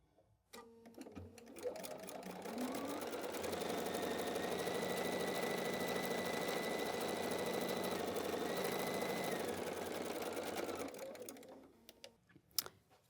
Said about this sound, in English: So I'm going to sew here to here.